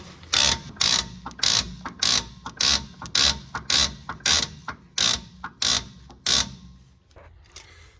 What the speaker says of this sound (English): I'm going to adjust my slack adjuster here so my S-cam is cupping